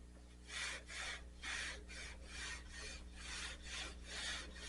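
Wet 600-grit sandpaper rubs back and forth over the car's paint in steady, even strokes, about one stroke a second, close and soft, with a constant low hum beneath; no one speaks.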